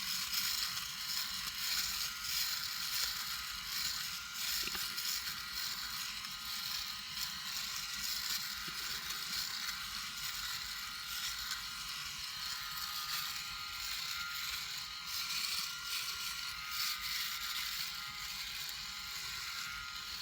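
PHISCO electric shaver running during a shave, a steady high buzzing hum held at an even level close to the mic, with faint scraping textures and no talk.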